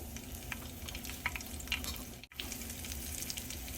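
Mustard seeds, cumin and a green chili sizzle in a spoonful of hot oil in a heated pan, a steady crackling hiss with sharp pops and a brief dropout midway, close and with no voices.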